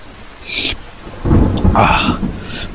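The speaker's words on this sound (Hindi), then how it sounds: "गणेश की छतरी के छेदों में से पानी की बूंदें लगातार टपक रही थी।" Steady rain pours down while thunder rumbles loudly and close, the heavy crashes building in the middle of the stretch, with no voices over the downpour.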